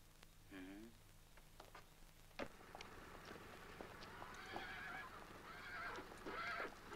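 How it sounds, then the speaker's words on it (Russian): A horse whinnies clearly near the start, followed by a sharp thud and rustling movement with faint voices in the background, in a 1970 war film. "Лошадь начальника погранзаставы."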